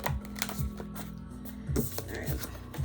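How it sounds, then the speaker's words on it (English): Tarot cards being shuffled by hand during a reading: several brisk riffling and slapping bursts at close range, irregular in rhythm, with no clear talking. "Oh my god, I'm still shuffling."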